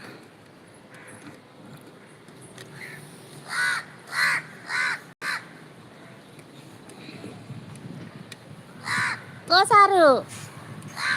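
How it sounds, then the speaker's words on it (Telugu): A crow caws repeatedly from nearby, several loud harsh calls in a loose series followed by a later burst of quick caws, while someone speaks between them. "ఇక్కడ ఒక కాకి."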